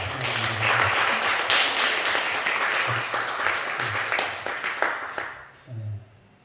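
A church congregation at Sunday worship claps for an elder, a dense burst of applause that tapers off toward the end while a voice speaks intermittently over it.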